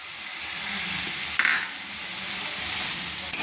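Milk poured into frying spices for prawn malai curry sizzles loudly and evenly, with a brief hiss burst and a couple of sharp utensil clicks against the pan, close up.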